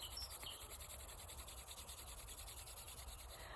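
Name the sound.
hands rubbing together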